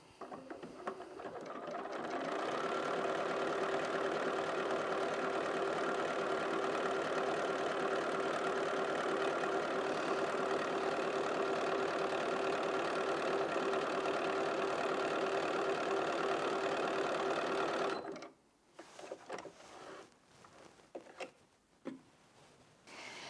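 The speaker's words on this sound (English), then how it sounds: "I'm just going to pop that under the foot and start sewing" A Bernina 475 QE sewing machine stitches through cut-up t-shirt fabric with a steady, continuous motor hum lasting about eighteen seconds, then stops, leaving a few soft handling noises.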